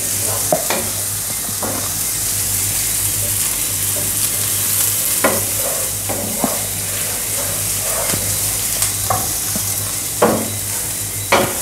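Chopped onions sizzle steadily in a pan while turmeric and salt are stirred in. The spoon scrapes and clinks repeatedly over a constant close frying hiss, and no one speaks.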